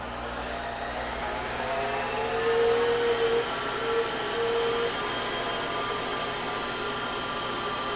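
Monarch 10ee lathe motor running up to speed at about 2,400 RPM, a steady mechanical whine with layered tonal hum that swells briefly in the middle, then holds constant.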